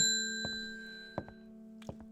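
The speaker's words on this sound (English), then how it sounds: "So, ding ding goes the bell." A small bell rings in the video game Strange Horticulture, a few bright metallic dings spread over two seconds above a steady tonal music drone, with no talking.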